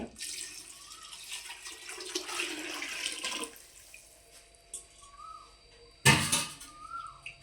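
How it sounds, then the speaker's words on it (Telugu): Four glasses of water are poured into a cooking pot for chicken pulao: a steady, splashy stream runs for several seconds, then stops, followed later by a sharp splash and some trickling. "నాలుగు గ్లాసులు వాటర్ వేసేసుకుందాము"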